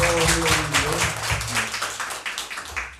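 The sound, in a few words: church congregation applause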